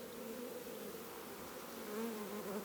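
Honey bees buzzing steadily around a wooden beehive, a soft, even insect hum that swells slightly toward the end, with no voices.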